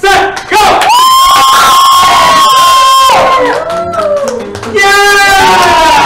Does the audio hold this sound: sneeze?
no